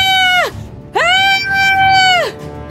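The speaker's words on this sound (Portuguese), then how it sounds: "Quem está gritando?" A high, sustained scream rises twice with a short gap between, loud and close, each cry bending downward at the end.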